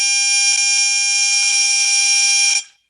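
Simulated Bluetooth radio-frequency radiation rendered as a steady, loud, high-pitched electronic buzzing tone, alone and unbroken for about two and a half seconds before cutting off abruptly.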